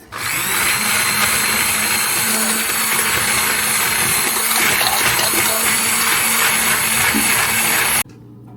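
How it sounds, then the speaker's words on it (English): Immersion blender blending cottage cheese, a loud steady motor whine running almost continuously, then cutting off abruptly near the end, leaving a quieter background. "Now I'm gonna use an immersion blender to blend the cottage cheese"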